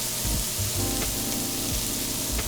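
Shallots sizzling in a pan with pancetta, a loud continuous close frying hiss with a few soft clinks, no talk.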